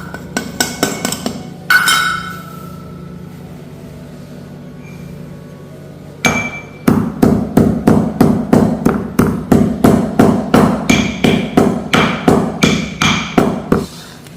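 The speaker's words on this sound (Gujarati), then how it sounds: "એલચી કૂટેડી લઈ" Cardamom pods pounded in a village kitchen while dough roasts in ghee, heard as a rapid run of sharp, loud, evenly spaced thuds of a pestle, broken by a pause before resuming in steady rhythm.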